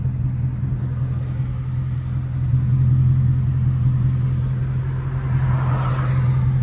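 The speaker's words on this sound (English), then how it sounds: "what if you had this exhaust on the Bullitt?" Ford Mustang Bullitt V8 exhaust giving a steady, deep low rumble throughout, fairly close and loud, with a slight swell in intensity near the end and no talking over it.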